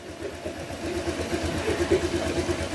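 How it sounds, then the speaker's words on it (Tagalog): A Honda motorcycle engine idles nearby with a steady, even low rumble and faint rhythmic pulsing, no voices. "Ayan mga sir, narinig niyo yung tunog ng makina niya."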